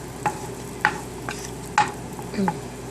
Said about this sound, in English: And then we're going to add our carrot and peas and cook that for a while.